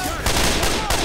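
Bursts of gunfire in the video game Left 4 Dead 2, two or three loud, broad blasts in quick succession, close and harsh with no clear voice.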